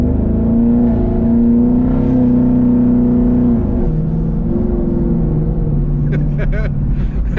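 A turbocharged Shelby GT350R Mustang engine revs loudly up close with a steady drone that dips and shifts pitch partway through, then a few brief sharp bursts near the end as the wastegate opens.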